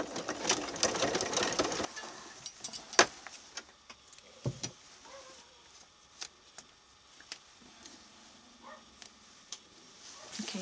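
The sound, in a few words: sewing machine basting fabric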